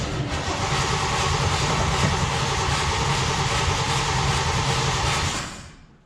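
A vehicle engine cranks with a little gas in an attempt to start after sitting unused for a while, a loud, dense and continuous churning roar that holds steady and then fades out at the end.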